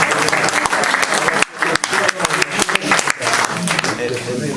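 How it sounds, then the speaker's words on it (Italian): A crowd at a recital claps steadily for a few seconds, a dense burst of applause with a brief dip partway through. "facciamo un applauso"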